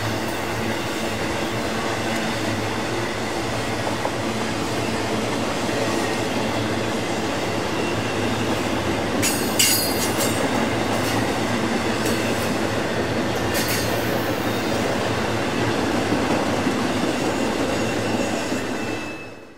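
Intermodal freight train 20X climbs a mountain grade through Lilly on the Pittsburgh Line, a steady heavy rumble of wheels and cars rolling past, with brief metallic wheel squeals cutting through partway along, no voices.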